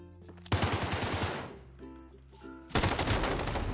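A light machine gun fires in a Call of Duty match with loud, rapid close-range bursts, a brief lull, then another sustained volley, with no talking.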